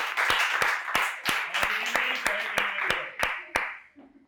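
Studio audience in a summer podcast quiz show claps for a correct answer: dense, close applause with sharp individual claps standing out over about four seconds, tapering off at the end.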